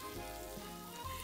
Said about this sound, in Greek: τα μπιφτέκια μας είναι στο γκριλ και δίπλα έχουμε τηγανίσει και το μπέικον